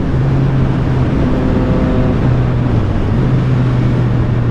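Triumph Street Triple 765RS motorcycle fitted with an SC Project exhaust, ridden at steady speed: a close, continuous engine tone that holds, rises briefly, then settles again under road and wind noise.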